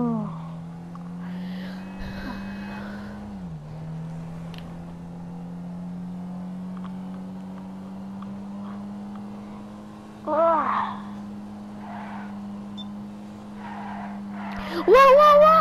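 A stolen car in GTA 5 drives with a steady engine drone, then its tires screech in bursts toward the end. Voices talk over parts of it.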